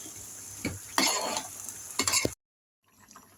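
Washed, cut okra tipped into a hot pan with a stirring scrape, then brief sizzling and clattering of utensils in bursts, followed by a short silence and quieter frying.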